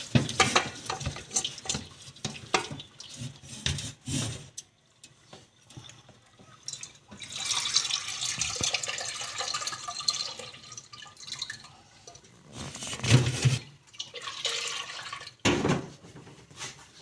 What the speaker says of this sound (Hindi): हमने अच्छी तरह से पानी निकाल लेना है इसका।